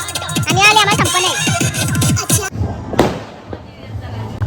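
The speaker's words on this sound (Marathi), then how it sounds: "फटाके वाजतात बघा." New Year firecrackers go off outdoors at a home party, with a sharp crack standing out after a stretch of loud voices and music, followed by lingering crowd noise.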